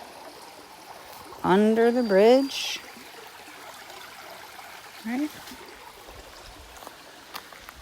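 Stream water flows under a bridge as a steady broadband rush beneath the speaker, with talk over it and a few brief high chirping calls near the start.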